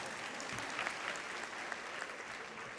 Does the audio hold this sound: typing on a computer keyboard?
no